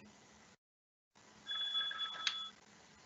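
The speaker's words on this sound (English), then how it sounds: "Sorry about the phone interruption there." A telephone rings once in a quiet room, a short warbling electronic tone of about a second following a brief dropout, with no talk during it.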